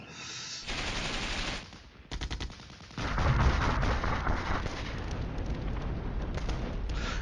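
Artillery fire in the Cold War strategy game Flashpoint Campaigns: a burst of booming shots, then a quieter gap, then a longer rolling barrage of loud, dense detonations that carries on to the end, with no talk.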